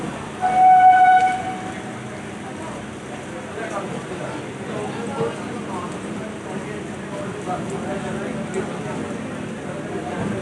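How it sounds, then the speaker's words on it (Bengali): A local train pulls out of Ranaghat station, opening with a loud horn blast, then a steady rumble and clatter of the moving coaches with voices talking over it. "রানাঘাটের ৫ নম্বর প্ল্যাটফর্ম থেকে ট্রেন ছেড়ে চলতে শুরু করলো"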